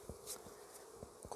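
Honey bees buzzing steadily in a hive of a new bee colony, a low, continuous close drone with a few brief louder passes, faint overall and with no talk.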